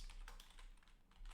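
Fast typing on an unfamiliar computer keyboard while writing Maya Python code: quick, close clusters of light key clicks in irregular bursts, fairly quiet and with no speech.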